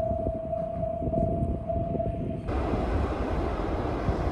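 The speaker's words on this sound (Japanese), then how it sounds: "下り列車が到着しました。" A down train pulls into Toyohashi station on the shared Iida and Meitetsu line section, with a steady low rumble and a sustained tonal whine that cuts off midway as the broadband noise of the arriving train swells.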